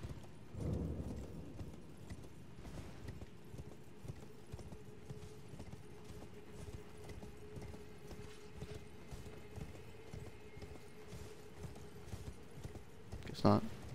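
Horse hooves gallop steadily in the Elden Ring video game, a quick, even clip-clop rhythm running throughout under low game ambience, with a louder burst near the end; someone talks faintly over it.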